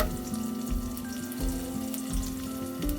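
Thinly sliced onions and curry leaves fry in oil with a steady, fairly close sizzle and bubbling hiss, plus a few faint clinks and a light hum behind it.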